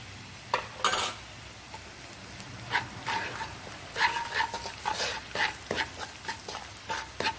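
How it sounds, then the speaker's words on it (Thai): Garlic fried potatoes with salt and sugar are stirred in a pan over a soft sizzle, with a series of scraping and clinking strokes of a utensil against the metal, close and uneven. "คนให้เข้ากันนะจ๊ะ"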